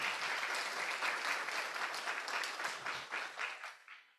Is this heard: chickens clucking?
no